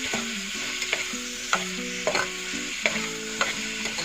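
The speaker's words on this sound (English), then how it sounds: "So you can saute the onions well." Onions sauté in a pan for a soya pulao, a close, steady sizzle broken by repeated scraping and clinking strokes of a spoon at an uneven rhythm.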